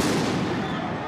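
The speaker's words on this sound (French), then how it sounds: "Et les pétards résonnent." Firecrackers burst in a dense, continuous crackling din on the Champs-Élysées in Paris amid violence after a PSG match, loud and harsh with no pauses between bangs.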